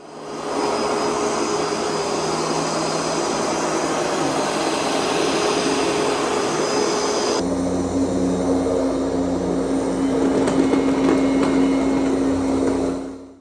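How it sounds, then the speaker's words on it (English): Two robot vacuums, a Roborock Q Revo and an Ecovacs T20 Omni, run in sequence at maximum suction on carpet, each a loud, continuous broadband roar with a high whine; the second has a deeper hum. "I set both of them to their maximum suction performance settings on the carpet."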